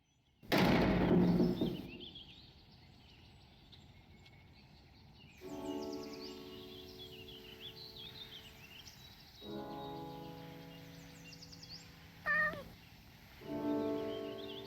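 A cat meows in the video game Our Long Walk Home: several drawn-out, tonal meows in separate bursts, moderately quiet, over a soft ambient game background with a brief sharp chirp between them.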